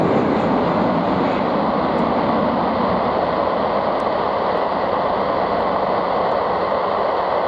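A British Airways jet takes off at Belfast City Airport, its engines producing a loud, steady, broadband roar that fills the whole stretch without letting up.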